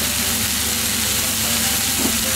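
Minced meat and finely chopped onion sizzle steadily in a frying pan while cooking baked curry, a dense continuous hiss with a faint soft stir near the end, close and alone.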